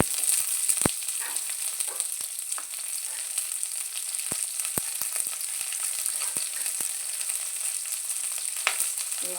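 Sautéing onions, large onion with green chillies, bay leaf and cinnamon, in a pan for a potato white kurma, giving a steady close sizzle and frying hiss with occasional sharp stirring clicks throughout.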